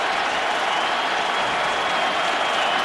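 Steady, dense roar of a stadium crowd at a Raiders at Colts NFL football game in Indianapolis, a continuous wall of cheering and noise with no break across the whole stretch.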